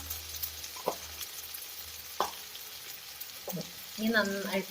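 Chinese potatoes (koorka) stir-fried over low heat in a pan for a Kerala-style dry fry, with a steady soft sizzle and a few scraping stirs of the spatula, ending in a louder clatter of stirring.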